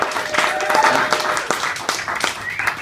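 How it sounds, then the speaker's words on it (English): A comedy club audience in The Hague gives a warm round of applause as a comedian is introduced, with steady clapping and a few whoops. It fills the room at moderate level throughout. "Please, warm round of applause for Socrates."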